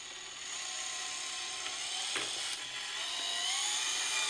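A Geneva gear mechanism on a half-inch spindle, powered up and running, gives a steady whirring mechanical drone with light ticking and a brief knock near the middle, continuous and close.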